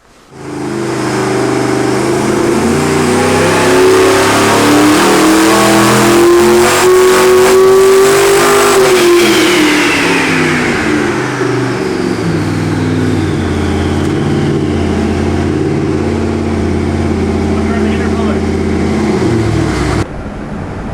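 A twin-turbocharged 632 cubic inch (10.4 L) big-block Chevy engine with mirror-image turbos, billet intake and stainless headers runs on a dyno, holding a loud steady roar that climbs in pitch, then falls and settles before cutting off.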